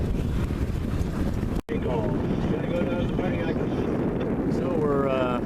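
Strong wind buffets a microphone aboard a sailboat heading east, a continuous rushing roar with a brief dropout partway through and faint higher tones near the end.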